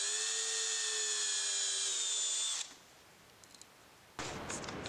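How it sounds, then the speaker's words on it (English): A power drill drills a pilot hole during a dual battery install on a Chevy Colorado. The motor gives a loud, steady high whine for under three seconds, then stops, and a short noisy burst follows. "I'm just going to drill out my 3rd pilot here in the center."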